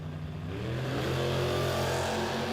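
Drag race launch of a Mopar against an S10 at a footbrake event: a loud engine roar rising quickly in pitch as the cars accelerate away, sustained and close, with no voices.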